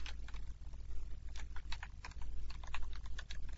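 Typing on a computer keyboard while writing Visual C# code, a fast, irregular run of close key clicks over a low background hum, with no talk.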